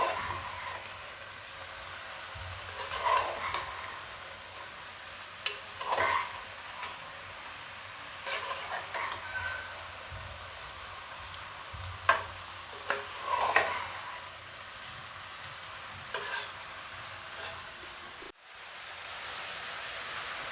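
Stirring boiled vegetables into a pan of sambar, with soft repeated scraping and stirring strokes and a faint sizzle in the background, steady and close.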